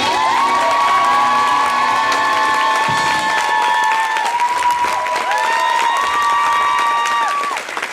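A loud audience bursts into sustained applause, cheers and whoops after a singing performance, a dense crowd roar that stays steady before fading at the very end.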